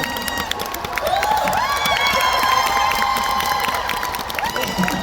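A concert audience in a hall cheers and shouts loudly from the back, a dense sustained roar of voices with rising whoops and screams that stays strong throughout.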